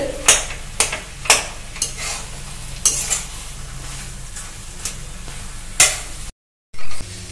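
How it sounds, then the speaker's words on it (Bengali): Potato pieces stir-fried in hot oil for bread rolls: a continuous sizzle with repeated sharp spatula scrapes and knocks against the pan at an uneven rhythm, close and fairly loud, broken by a brief gap near the end. "তেলেতে আলুটা দিয়ে আমি তেলের সঙ্গে আলুটা কিন্তু কষে নিচ্ছি সুন্দর করে"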